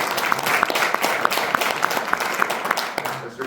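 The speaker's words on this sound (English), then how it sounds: "Christy Neff, round of applause" A crowd at a county commissioner candidate night claps for a Republican primary candidate, a brisk round of applause with crisp individual claps near the front that tapers off at the end.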